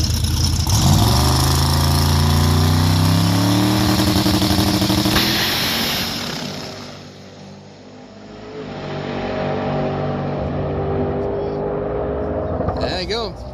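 Cleetus McFarland's drag race car roars down a full quarter-mile pass, its engine rising in pitch as it pulls hard, then fading into the distance before a rumbling engine sound builds again.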